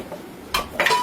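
A kadhai is set down on a gas stove with two quick metallic clanks, a short scrape and a faint ring afterward, close and clear with no talk.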